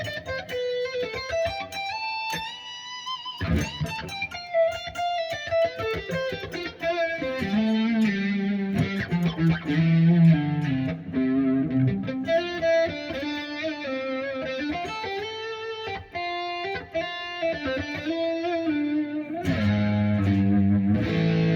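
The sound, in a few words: GOC Satya+ headless electric guitar played on neck pickup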